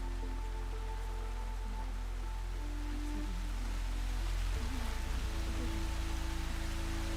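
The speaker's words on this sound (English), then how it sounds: "Okay, so it's raining now." Steady rain hisses and patters across surfaces in the Horizon Zero Dawn video game, a dense, continuous wash with a low rumble that swells about halfway through, with no talking.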